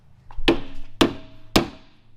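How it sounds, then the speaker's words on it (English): Three sharp, evenly spaced metallic hammer taps on a pressed-in part of a Dodge Hellcat engine, each strike crisp and close with a short ringing decay. "Then you just tap the sides here, and it goes punk and falls right out."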